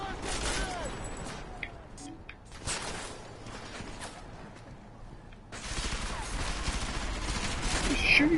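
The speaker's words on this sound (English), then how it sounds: "Where's the shooting coming from?" Gunfire in the stealth action game Deus Ex: Mankind Divided: dense rattling bursts of shooting come and go in waves, some quieter stretches between, with a voice speaking over part of it.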